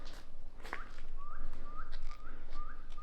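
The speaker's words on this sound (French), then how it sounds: "Arrête de siffler" A person whistles a series of short, rising notes in a steady repeating pattern over faint background noise while exploring an abandoned site.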